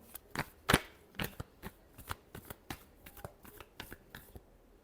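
A deck of tarot cards is shuffled by hand in quick, irregular bursts of crisp riffling snaps and soft slaps, close up and fairly quiet, with no voices.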